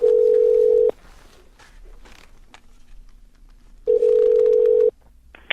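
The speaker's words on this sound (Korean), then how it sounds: "중앙입양원의 이현주 팀장을 전화 연결해서" A steady telephone dial tone sounds loudly for about a second while a call is placed. Quiet handling noise follows, then the same flat tone returns for another second before cutting off.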